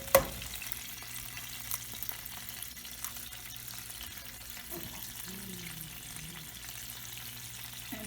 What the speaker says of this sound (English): Then you're gonna crack the eggs in the pan.